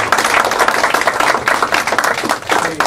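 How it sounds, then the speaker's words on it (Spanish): A close burst of enthusiastic hand clapping from a group, loud and continuous with a choppy, uneven texture. "Vamos a recibir con un fuerte aplauso a un compañero valioso"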